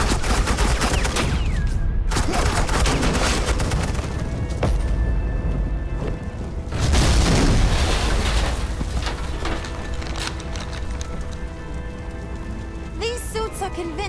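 Rapid suppressing gunfire in a Batman video game, loud dense bursts and rattling volleys that run almost continuously, with a heavier surge in the middle and brief quieter gaps.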